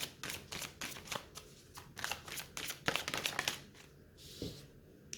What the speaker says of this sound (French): on va se voir un dernier message avec l'oracle des miroirs